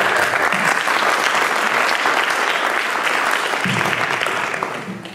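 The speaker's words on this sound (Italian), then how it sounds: "Un applauso." Sustained audience applause at a photography debate event, dense and steady for about five seconds before starting to thin out at the end, with no talking over it.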